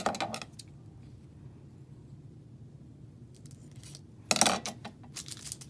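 Scissors snip slits in contact paper while covering a paperback book, giving a few short crisp cuts near and fairly loud, with a quiet pause between them.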